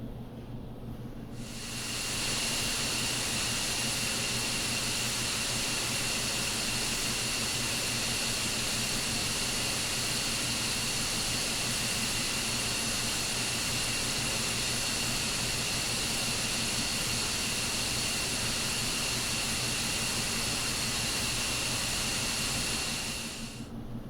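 An F-15E Strike Eagle's jet engines in DCS, taxiing to the runway: a loud, steady turbine whine and roar over broadband hiss that fades in, holds nearly constant for about twenty seconds, then tapers off, with no talk.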